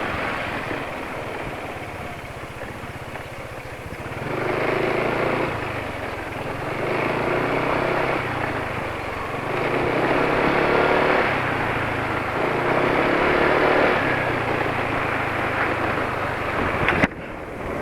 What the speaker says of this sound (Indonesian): Bisa dengar nggak itu ketika gas dilepas, RPM sudah mulai agak turun dengan cepat